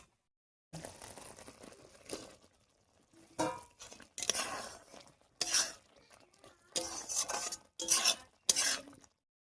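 Fried eggs being stirred into an egg curry with spinach in a pan, giving bursts of scraping and wet stirring against the metal, close and fairly loud, with short pauses between strokes.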